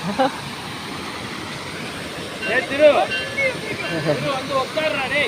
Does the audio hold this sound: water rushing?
yes